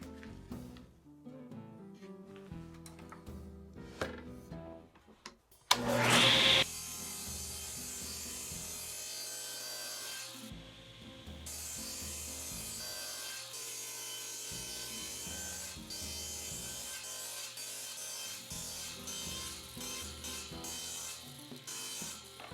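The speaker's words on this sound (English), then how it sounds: "I use my thin strips jig to rip oak" Oak being ripped into thin strips on a table saw with a thin-strip jig, a loud steady whining cut running continuously after a sharp start, with tool and wood rubbing noises before it.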